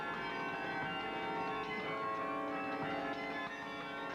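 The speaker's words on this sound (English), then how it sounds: "We have 58 bells above us and 14 bells below us." A carillon of 58 bells overhead and 14 below, about 65 years old, rings with layered sustained bell tones overlapping into a continuous shimmering chord heard from among the bells.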